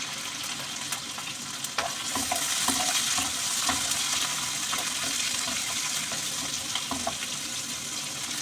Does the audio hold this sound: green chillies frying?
yes